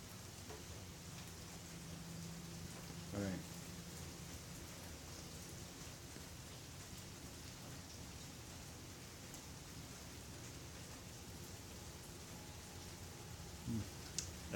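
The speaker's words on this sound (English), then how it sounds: "It's raining." Steady, soft rain falls on an evening outdoors, a constant hiss with a couple of faint brief knocks.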